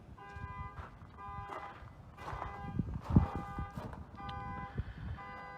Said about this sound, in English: Stupid ass car alarm.